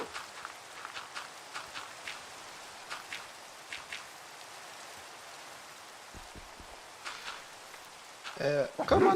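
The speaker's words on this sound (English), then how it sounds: "I hate the rain." Steady hissing rain falls in a Minecraft world, a soft continuous patter throughout with faint scattered ticks, and a brief louder burst near the end.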